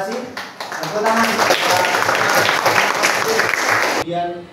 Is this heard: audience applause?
yes